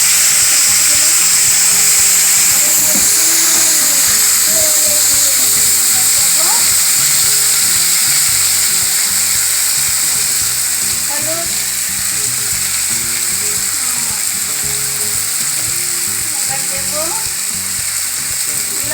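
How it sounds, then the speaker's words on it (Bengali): Food browning in a frying pan gives off a constant, loud sizzle with occasional stirring scrapes, going on throughout with no speech. "আমি একটু ফ্রাই করবো, তাহলে ভীষণ টেস্ট হবে।"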